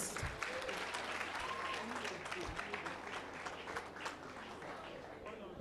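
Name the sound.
applause for the president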